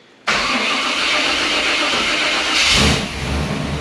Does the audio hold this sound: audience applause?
no